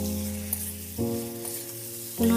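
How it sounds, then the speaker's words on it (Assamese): Mutton fries in a pan with a steady, close sizzle, broken by a couple of louder surges as the meat is stirred and turned. "এতিয়া ইয়াত মাংসখিনি দি দিম আৰু মাংসটো আমি ভালদৰে লৰাই ল'ম"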